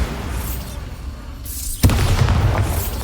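A Confringo or Bombarda spell explodes in Hogwarts Legacy, one sudden loud boom bursting out partway through a dense, rumbling game soundscape and then ringing on.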